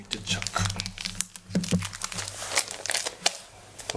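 Plastic zipper bag holding salted trout pressed to push out air and sealed, a series of close crinkling and rustling sounds with a person talking over them.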